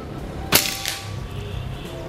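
A single sharp shot from a semi-automatic PCP air rifle cracks out, brief and loud, followed by a faint ringing tail over quiet background hum.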